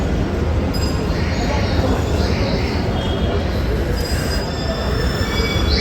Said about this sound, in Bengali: পুরো ট্রেনের সাউন্ড শোনা যায়